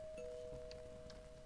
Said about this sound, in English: Oh, that'd be the doorbell.